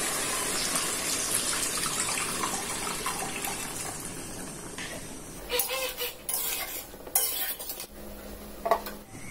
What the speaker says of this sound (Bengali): এখানে এখন আমি পানি দিয়ে দিই।